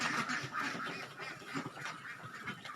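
Ducks kept on a farm quack excitedly while being fed, a busy overlapping chorus of nasal quacks in rapid irregular bursts, close by and fairly loud, no voices over them.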